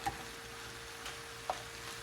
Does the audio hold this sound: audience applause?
no